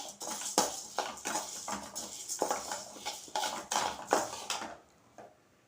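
Roasted ingredients for a South Indian curry leaf and toor dal spice powder are tipped from a pan into a vessel, with repeated metallic scrapes and clinks of a spoon against cookware, moderately close, ending in quiet.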